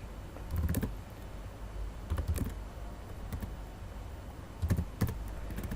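Fast typing on a computer keyboard while entering data in an Excel spreadsheet: quiet clicky keystrokes in short clustered bursts separated by pauses, over a steady low background hum, with no talking.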